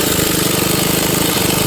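A Harbor Freight Earthquake air impact ratchet hammers steadily on a lug nut torqued to about 80 foot-pounds, giving a loud, dense, continuous rattling buzz close to the ear throughout.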